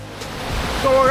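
Water rushes at a waterfall on a trekking route, a dense roar that swells toward the end and is joined by a brief high tonal sound.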